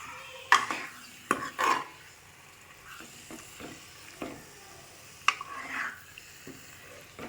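Chicken pieces go into a curry pan with fried onions and gravy, landing with a few sharp clattering scrapes and spoon knocks against the pan before a soft sizzling settles underneath with the occasional stir.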